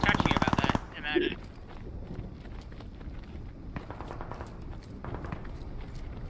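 Rapid burst of automatic gunfire opens the scene in the video game Squad, followed by a single distant shot and scattered faint reports under muffled movement and ambience.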